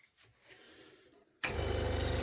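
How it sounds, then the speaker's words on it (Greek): Gaggia Classic Pro espresso machine pumping very hot water, quiet room sounds suddenly giving way to a loud, steady pulsing pump hum that starts abruptly and continues. "Βγάζουμε το πολύ ζεστό νερό από τη μηχανή."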